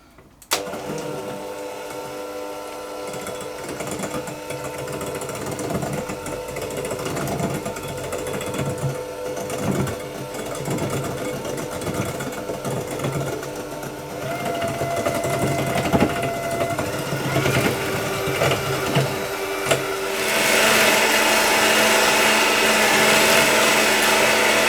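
Electric mixer whirring steadily as it slowly beats eggs into butter cake batter for a brownie butter cake, a continuous close motor drone that grows louder and higher near the end, with no talking.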